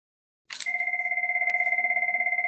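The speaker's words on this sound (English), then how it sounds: "hopefully you can hear the call or the phone over here ring" An incoming Webex call rings a phone nearby: after a short click, a clean two-tone electronic ring starts and pulses in rapid, even repetition, loud and alone.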